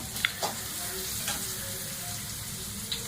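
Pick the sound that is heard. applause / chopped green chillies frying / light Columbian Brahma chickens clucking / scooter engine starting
chopped green chillies frying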